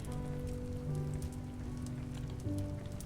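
Steady rain patters on a surface in the game A Story Beside, a dense, even hiss beneath soft sustained tones, with no talking.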